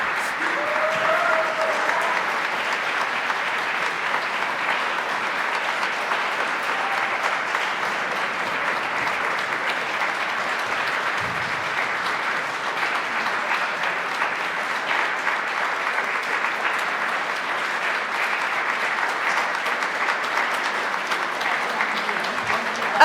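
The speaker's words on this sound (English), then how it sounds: "that was a nice round of applause" A large audience at a UK conference welcome session applauds steadily for over twenty seconds, a dense, even wash of clapping that neither builds nor fades much before ending.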